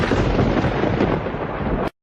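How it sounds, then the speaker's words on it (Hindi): Thunder rumbling with unseasonal rain, a dense, loud, continuous roll of crackling noise that holds steady and then stops abruptly. "ये बिना मौसम की गरजती हुई बारिश हमें क्या संकेत देती है?"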